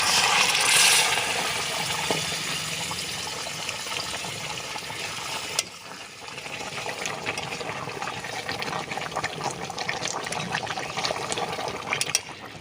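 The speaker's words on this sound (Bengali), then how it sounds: "গরম জল দিয়েছি তো, দেওয়ার সঙ্গে সঙ্গে ফুটতে শুরু হয়ে গেছে।" Hot water is poured into a pan of spiced mutton curry on a village stove, with a loud gushing pour at first that settles into a steady bubbling simmer with occasional pops.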